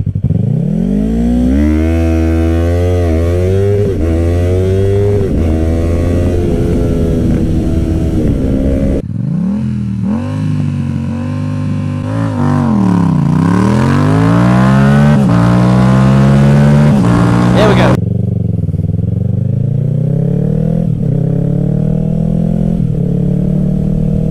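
Yamaha R3 and restricted Yamaha MT07 motorcycles drag racing from 0 to 60 mph, engines loud and close, climbing through repeated rising revs with gear-change dips, then a steadier high-pitched drone near the end.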